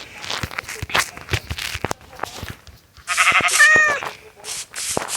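A goat bleats in the Minecraft video game, a loud wavering cry standing out near the end over a run of sharp tapping clicks and footsteps, with no talk.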